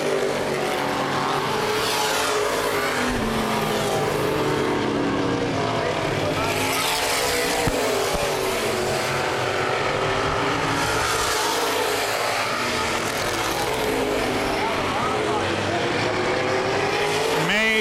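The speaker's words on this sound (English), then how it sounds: "Mays and Wormcastle still battling it out as they're going to close in on the slower vehicle, Mike Boofing." Open wheel modified race cars racing at Baer Field Speedway during a 2012 feature event, loud continuous engine roar that swells and fades as cars pass, with announcer commentary over it.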